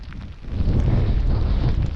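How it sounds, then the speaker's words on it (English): Stormy wind on Helvellyn in the Lake District roars and buffets in a deep, continuous rumble, swelling louder after a brief lull, with heavy gusts battering close against the microphone. "It is windy, rainy, and pretty damn right awful"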